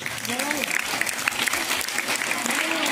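An audience applauds steadily as a mathematics teacher is welcomed to the stage at a school function, the clapping close and dense, with a few voices talking over it.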